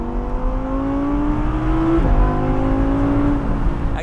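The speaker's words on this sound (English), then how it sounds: "you just never get tired of hearing that V10" An Audi R8 V10 Spyder's engine revs and pulls hard, a loud, steady, close roar that climbs in pitch, dips briefly at a gear change, then climbs again.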